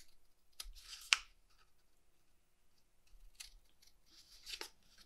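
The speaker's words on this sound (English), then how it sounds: "we're just going to cut all those little tabs like that" Scissors snip through small paper tabs for a marble run craft, a few sharp, close cuts separated by quiet pauses.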